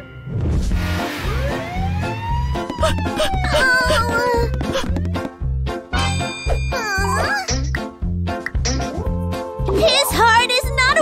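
An ambulance siren in a children's cartoon wails with rising and falling tones over a steady, bouncy music track, loud and close throughout, with other cartoon sound effects mixed in.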